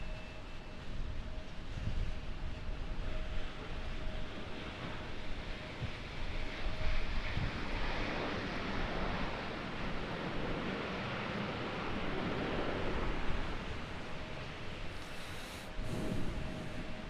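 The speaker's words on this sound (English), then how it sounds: "the wind, while I was filming that A319 come in, it was like shoving me into my camera" Strong, gusty wind buffets the microphone at Raleigh-Durham International Airport during stormy weather, a continuous roaring rush with a faint steady tone underneath, no voices.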